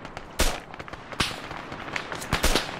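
Gunfire in the military shooter Arma 3: several sharp, loud shots crack out in an irregular rhythm, with quieter distant pops between them.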